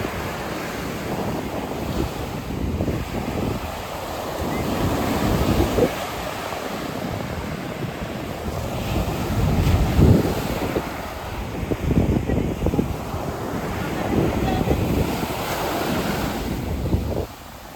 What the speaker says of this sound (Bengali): না, উত্তাল বঙ্গোপসাগর।